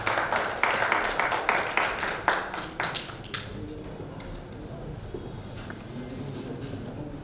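An audience at a book launch event gives a burst of applause, a dense patter of clapping that lasts about three seconds and then fades into quiet room tone.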